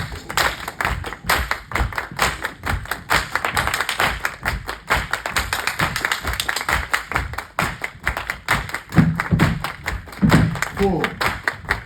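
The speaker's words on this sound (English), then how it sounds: "claps." Many hands clap together in a dense, ongoing patter, loud and close, building through the passage, with a few spoken cues mixed in near the end.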